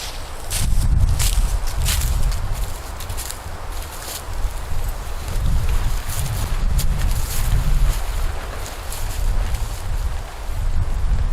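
Strong, relentless wind buffets the microphone at a solo canoe campsite, a continuous loud roar with gusts swelling and easing across the whole stretch, no voices.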